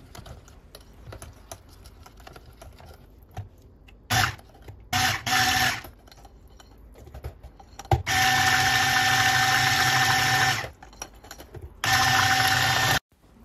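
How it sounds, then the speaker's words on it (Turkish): An electric hand mixer whirring through crepe batter made with baking powder and salt, running in short bursts and then longer steady stretches of buzzing motor noise, close and fairly loud, separated by quiet pauses. "Mikser yardımıyla pürüzsüz olana kadar karıştıralım."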